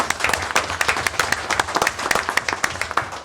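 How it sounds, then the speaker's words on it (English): Applause for volunteers at a town council meeting, a crowd clapping steadily with sharp, dense individual claps, fairly close and without a break for the full few seconds. "you guys also deserve a round of applause"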